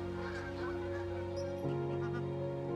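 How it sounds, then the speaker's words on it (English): A mixed flock of greylag, pink-footed, lesser white-fronted and barnacle geese on marshland beside a river honks continuously, many overlapping calls blending into a steady, moderately distant chorus. "including greylag geese, pink-footed, lesser white fronts and barnacle geese, graze the marshland close to the river"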